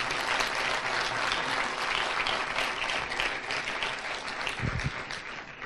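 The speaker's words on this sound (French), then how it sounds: "Oui, on va applaudir." Audience at a conference on prospective ergonomics and innovation applauds, a dense, steady wash of many hands clapping throughout, loud and continuous, with a brief low thump near the end.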